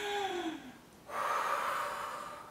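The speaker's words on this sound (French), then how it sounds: "Inspirez." A deep inhale during a floor stretching exercise: a quiet, close breath that rises into an airy rush after a brief pause, over a faint background tone.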